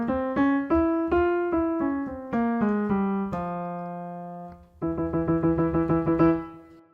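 A harmonic minor scale in F, with its raised E natural, played as a run of separate pitched notes that steps through the scale, holds a long tone, then resumes with quick repeated notes, clear and alone.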